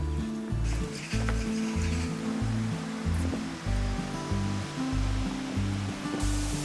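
Waterfall on Jeju Island, a steady broad rush of falling water with a deep rumbling low end, loud and continuous throughout with no voices.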